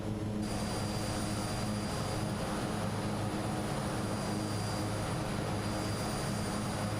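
Twin Otter twin-engine propeller aircraft in Microsoft Flight Simulator, a steady, dense engine drone with a faint high whine, unbroken and loud throughout.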